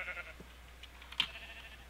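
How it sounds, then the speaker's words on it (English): A sheep in the video game Minecraft gives a short, faint bleat, then a brief sharper call, set against quiet background tone. "A fucking sheep."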